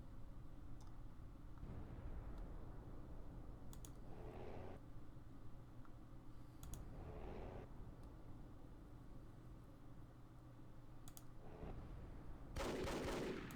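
Battle for Iwo Jima wartime strategy game: scattered bursts of gunfire and distant shots crackle at intervals over a low rumbling background, closing with a louder burst.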